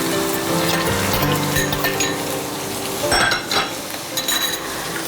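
Chopped garlic and ginger fry in hot oil with a constant sizzle beneath stirring scrapes and a few metallic clinks of utensil on pan, and tonal music plays underneath.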